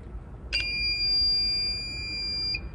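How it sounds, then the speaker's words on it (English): A library checkout machine gives a sharp electronic error beep that sounds once and holds as a steady high tone for about two seconds, ending with a brief final chirp. "you hear that beep, that angry beep and that red light"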